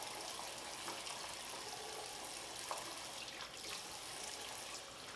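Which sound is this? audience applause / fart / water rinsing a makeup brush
water rinsing a makeup brush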